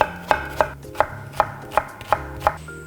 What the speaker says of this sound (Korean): 끓어오르는 동안 양파를 먼저 채 썰어 볼게요